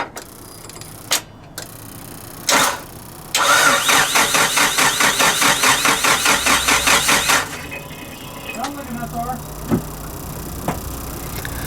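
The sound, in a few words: Nissan Pulsar GTI-R engine cranking and starting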